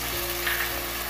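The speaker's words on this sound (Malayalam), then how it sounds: "ഇനി നമുക്കതിലേക്ക് ഓരോ സോസുകളും ഒഴിച്ചു കൊടുക്കാം." Onions frying in a pan as sauces are poured in, giving a steady, even sizzle that holds at one level throughout the short stretch, close and fairly loud, with no voices.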